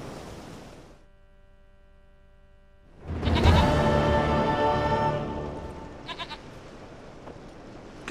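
Goat bleating in The Witcher 3 video game, a loud, wavering bleat rising over steady ambient game sound, with a low tone fading before it and a few brief clicks afterward.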